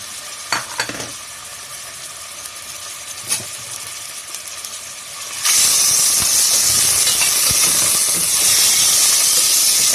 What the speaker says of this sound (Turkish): Önce etimizi kavuralım.